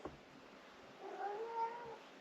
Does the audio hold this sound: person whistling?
no